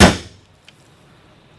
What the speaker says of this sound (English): smack a little dent where the center of the drill bit's going to go so it doesn't wander